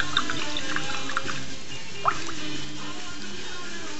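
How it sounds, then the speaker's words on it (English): A nail art brush rinsed in water, with soft close swishing, light dripping and small liquid squelches, quiet and brief. "just wash your brush again to get any of the dry paint out."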